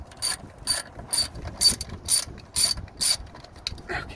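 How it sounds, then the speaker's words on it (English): A ratchet wrench clicks in quick, even bursts while backing a bolt off a bracket on a 3rd-gen Cummins truck during a fan clutch job, about eight close, loud ratcheting strokes with no voices. "what I'm doing here is taking off the wiring bolt that holds on this bracket"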